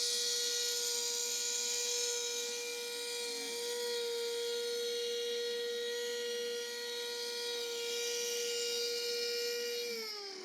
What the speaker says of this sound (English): With the router set up the correct depth, I've got the correct bearing on there to give me the correct width of cut.